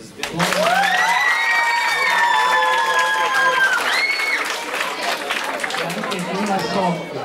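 Audience applause at a school talent show: a crowd claps loudly and steadily, with high whistles and cheering layered over the clapping, easing slightly toward the end.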